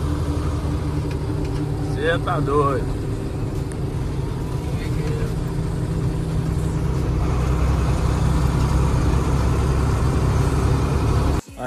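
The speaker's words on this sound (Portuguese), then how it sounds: "acelerando o carrão de forma bonita, de bonita forma." A Mercedes-Benz 1113 truck engine accelerates with a steady, droning low hum that holds and swells slightly, while someone speaks briefly over it.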